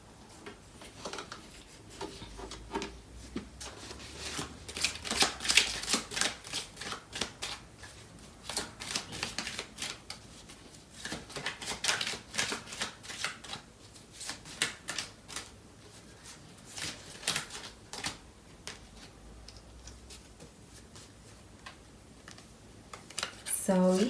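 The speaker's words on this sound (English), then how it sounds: "So I'm going to pull out some more cards to clarify." Tarot cards are shuffled and pulled in repeated bursts of crisp riffling and slapping, separated by quieter handling, with a soft voice speaking at times underneath.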